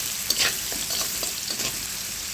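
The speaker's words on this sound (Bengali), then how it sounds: "আর কিছুটা ভেজে তুলে নেব" Potato pieces fry in hot oil in a pan, a steady close sizzle with a few brief stirring scrapes, no voices.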